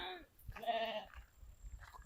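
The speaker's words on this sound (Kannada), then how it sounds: "ಕುರಿಗಳನ್ನು ಮನೆ ಕರ್ಕೊಂಡು ಹೋಗ್ತಿದ್ದಾರೆ." Sheep bleating as a flock is herded home at the end of a day's grazing, a few nasal calls close by, with one long bleat standing out over low rustle and background noise.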